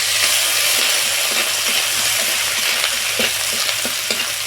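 Grated ginger fries in oil with spices for a cabbage dish, a loud, dense, continuous sizzle with a spatula scraping and stirring through it, close up and with no one talking.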